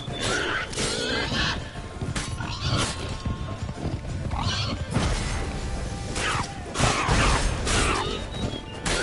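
A horse in Witcher III: Wild Hunt whinnies and its hooves thud and clatter, mixed with game effects and impacts at a steady loud level, with little talk.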